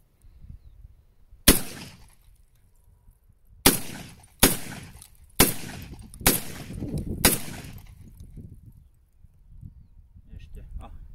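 Six sharp, loud shotgun blasts from a Derya MK-12 at an IPSC shooting range, spaced unevenly over several seconds with short ringing decay after each, and low murmured voices between shots.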